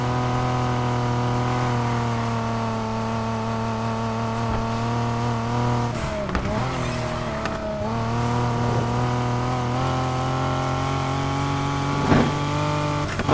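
A convertible Leon's engine in the racing game Need for Speed Heat roars at a steady high drone, its pitch dipping and surging around the middle as the car shifts and accelerates, with no talking.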